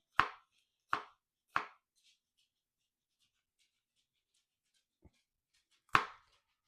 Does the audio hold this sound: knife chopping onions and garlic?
yes